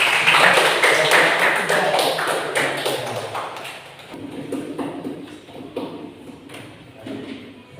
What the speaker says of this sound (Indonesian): tepuk tangan dulu dong untuk teman-teman.